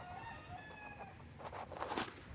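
Tethered chickens on a farm in Pagsanjan, Laguna, with a rooster crowing once, faint and somewhat distant, over soft background noise.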